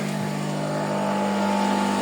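A 220 V electric motor on a vacuum hay cutter starts up and settles into a loud, steady hum with a constant electrical whine, heard close and alone.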